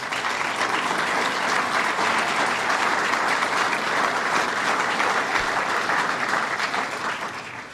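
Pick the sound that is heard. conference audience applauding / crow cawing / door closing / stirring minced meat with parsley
conference audience applauding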